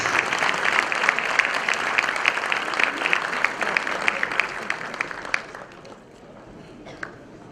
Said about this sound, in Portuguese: eu peço agora os aplausos às nossas autoridades